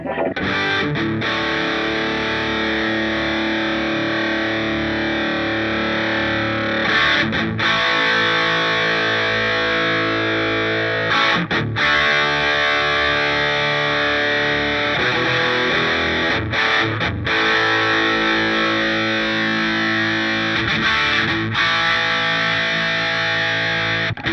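Distorted electric guitar chords played through a desktop effects unit's delay ring out with echoing repeats trailing behind each strum, loud and sustained with brief gaps between phrases.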